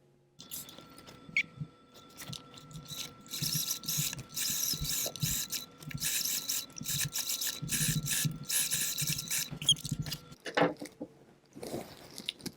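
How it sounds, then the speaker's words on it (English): A sewing machine stitches an elastic casing on doll pants, a close whirring run of rapid needle strokes lasting several seconds with brief pauses, stopping near the end. "I've pinned them down, and I'm just going to sew it"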